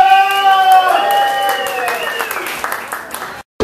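A crowd at a Sturgis motorcycle rally show at the Buffalo Chip Campground claps and cheers for a contestant, with a loud voice ringing over the applause before it cuts off abruptly.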